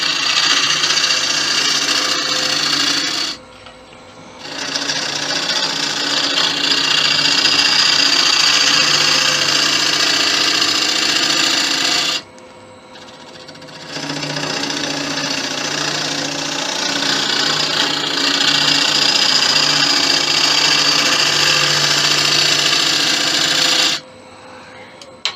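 A carbide tool cuts 5000-year-old bog oak spinning on a lathe, making a loud, steady rasping drone broken by two brief pauses as the cut stops and restarts.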